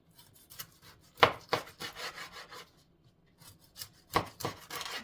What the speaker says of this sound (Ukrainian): І нарізаємо рибу порційними шматочками.